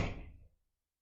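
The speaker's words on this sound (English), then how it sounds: "Good backfire." A vintage British motorcycle engine backfires once, a single loud close pop with a short rumbling tail that fades quickly to silence.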